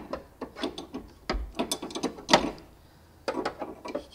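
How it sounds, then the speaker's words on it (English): A spanner ratchets on the coilover top nut of a VW T5 van, a series of close, sharp clicking strokes in uneven bursts with a short pause near the middle and no talk. "Spanner on, just give it a pull"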